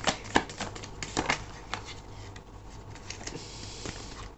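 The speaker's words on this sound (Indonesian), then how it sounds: "karena ada 2 yang terbuka, jadi aku akan shuffle lagi ya sekali" Tarot cards are shuffled by hand, a run of quick papery riffles and taps that come in bursts and then settle into a softer, steady patter, close and fairly quiet.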